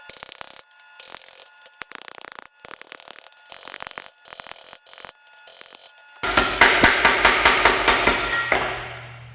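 Sheet metal is hammered on a shrinking stump, with a scraping, clattering stretch giving way to a rapid, loud series of close metallic hammer blows in a steady rhythm.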